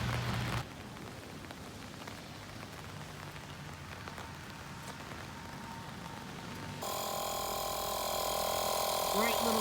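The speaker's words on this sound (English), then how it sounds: "Rainy day in Georgia." Steady rain falls in Georgia at an RV resort, a dense continuous patter on surfaces that grows brighter and heavier toward the end, with a constant hiss throughout and no clear talk.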